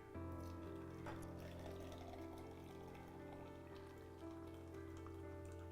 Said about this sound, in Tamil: இப்போ இதை வந்து நம்ம ஊற்றிக்கலாம் எந்த கிளாஸில் நம்ம சர்வ் பண்ண போகிறோமோ அதில் ஊற்றிடலாம்